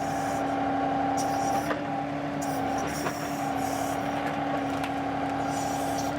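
Compact tractor front loader curling its bucket with upgraded, larger hydraulic cylinders: a steady, continuous engine drone with a droning hum, close and fairly loud, holding level throughout without pauses.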